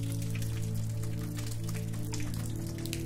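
Steady rain falls on surfaces in a village at night, a dense, even patter with scattered drop ticks and a low constant wash, moderately quiet and uninterrupted, with no voices.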